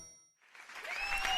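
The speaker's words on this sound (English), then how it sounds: "All of the animals cheer for the fire trucks" Cartoon animals cheer for the fire trucks Big Red and Lil Red. After a brief silence, bright crowd-like cheering and clapping swell up with a few whistling tones and grow louder toward the end.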